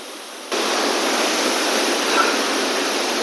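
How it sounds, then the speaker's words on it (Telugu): Waterfall spray in a hillside village in Nepal, a loud, dense, unbroken roar of falling water that swells in abruptly after a quieter first moment and then holds steady, close by and with no voices. "ఆ వాటర్ ఫాల్ జల్లులు అయితే మీద పడుతున్నాయండి"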